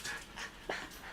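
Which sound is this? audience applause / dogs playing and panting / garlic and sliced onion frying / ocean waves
dogs playing and panting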